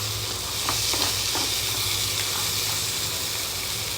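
Water poured into a hot pan of pre-boiled crab sets off a loud, steady hiss and sizzle with faint stirring scrapes, continuing evenly throughout.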